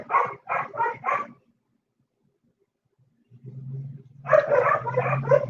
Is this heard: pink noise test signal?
no